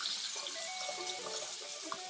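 Tap water runs steadily into a sink in a home bathroom while a child brushes her teeth, a close, even splashing hiss with no talk.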